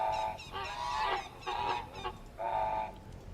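A goose in the video game Age of Empires honks three times in steady succession, loud, nasal and close, with no talking over it.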